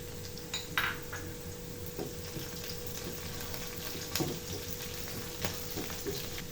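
Peppercorns, cloves and sliced green chillies fry in oil with onion while beef brain is cooked, giving a constant, even sizzle broken by a few faint utensil clinks. The sound is moderately quiet and steady, with no talking.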